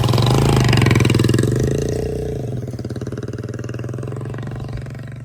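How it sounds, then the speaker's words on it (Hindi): A motorcycle engine approaches in a rural setting near a dog, loud and rough with steady low throbbing firing pulses, peaking early and then easing slightly as it continues running. "मोटरसाइकिल आ रहा है"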